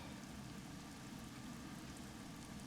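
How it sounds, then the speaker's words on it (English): Light rain falls steadily from a pale gray sky, a soft, even hiss of fine drops that holds constant and alone for a few seconds. "there is a light sprinkling of rain falling from a not dark sky but a light gray one"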